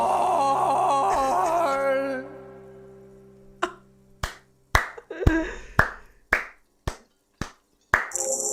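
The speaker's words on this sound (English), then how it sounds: "It's the most pathetic applause in the world, Harry, made of pity." Sparse, feeble applause from the video game Disco Elysium: a handful of slow, separate claps spaced apart, close and dry, following a sustained sung or moaning vocal tone.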